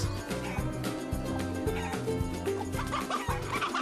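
Several chickens cluck steadily and close together, a busy overlapping chatter of hens with no talking.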